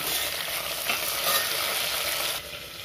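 Mint and coriander sauté in oil and ghee with a loud, dense sizzle that runs steadily and then drops a little toward the end.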